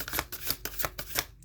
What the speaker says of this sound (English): let's pull an oracle card here